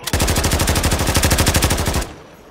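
Rapid automatic gunfire in a video game: a close, loud burst of about two dozen evenly spaced shots in one continuous volley that stops abruptly, leaving a short fading tail.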